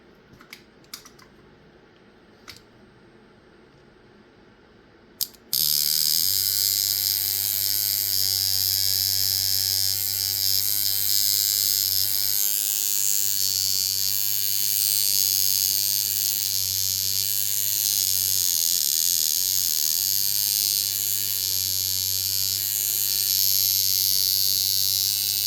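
A cheap brass coil tattoo machine runs steadily after a few clicks, giving a loud, continuous buzzing hum with a bright high whine, tuned hard at about 6.5 volts and 58% duty.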